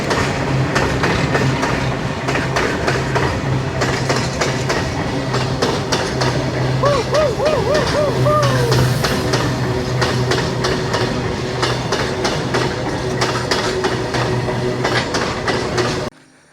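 A train rolls past on the railway track near Dudhsagar Falls, a loud, close, continuous rumble and clatter of wheels for the whole stretch, with a brief squealing tone midway before cutting off.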